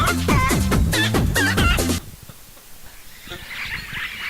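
A person vocally imitates a rooster crowing, several loud, rhythmic crow-like calls in quick succession for about two seconds, followed by quieter background noise.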